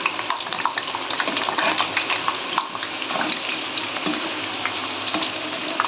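Small onion bondas fry in hot oil as a steady bright sizzle with bubbling crackles and occasional scraping clicks from turning, close and continuous with no talking.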